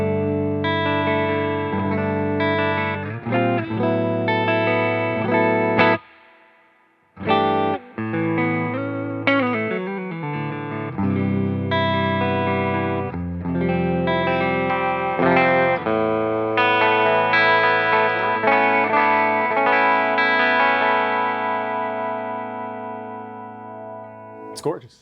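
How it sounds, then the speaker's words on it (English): A clean electric guitar through a Mesa/Boogie Mark IIC+ amp plays chords and single notes with a touch of reverb, ringing out and decaying, with a short pause midway. "here's your clean with a little bit of reverb."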